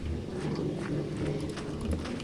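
Video-game horses kept for breeding walk in a pen, their hooves clip-clopping in soft, irregular taps over a low, continuous background hum, with no voices.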